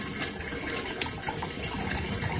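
Water pours and gurgles steadily through a homemade bell siphon, a continuous splashing flow with small bubbling bursts, close and fairly loud with no talking.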